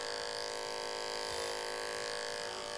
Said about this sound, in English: So it's important we go really slow with the clipper and let that clipper work